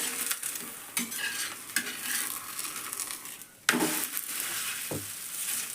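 Cabbage cooking in oil in a pan, with repeated stirring scrapes and knocks of a utensil over a soft steady sizzle, close by and with no voices.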